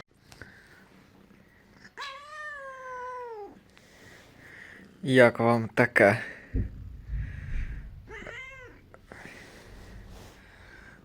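Several drawn-out cat meows, one long and wavering, another short, mixed with a voice talking and a scuffling burst in between.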